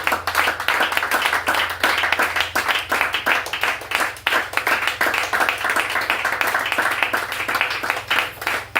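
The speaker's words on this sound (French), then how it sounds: "Oh, encore une belle acclamation au Seigneur." Church congregation clapping and applauding in praise, a loud, fast, rhythmic stream of many hands close by that continues for several seconds, with a low sustained tone underneath for the first part.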